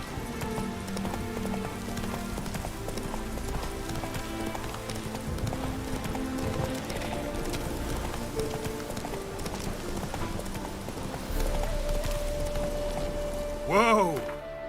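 Horse hooves clop at a steady galloping rhythm in The Witcher 3 video game, heard beneath constant background music, with a brief sustained tone and a louder swell near the end.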